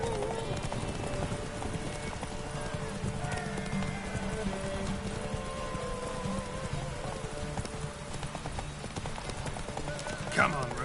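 A horse gallops with steady, rapid clip-clop hoofbeats in The Witcher 3, as rain falls and a voice talks over the running.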